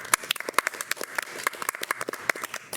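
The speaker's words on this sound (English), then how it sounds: "I think you deserve a round of applause" A few people clap unevenly at a city council meeting honoring city staff, sparse sharp claps that are close and irregular, without a full ovation.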